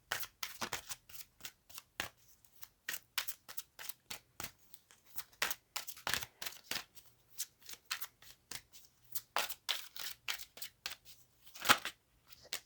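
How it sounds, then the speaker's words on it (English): Cards being shuffled over and over, a long run of crisp riffles and snaps in quick bursts, close up with no talking. "If you don't wish to sit through the shuffling, feel free to fast forward past all of it"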